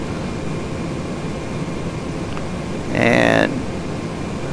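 Steady cockpit drone of a Cessna Citation X jet in flight in the FSX flight simulator, a constant engine and air hum with a brief louder tonal beep partway through and a short spoken word.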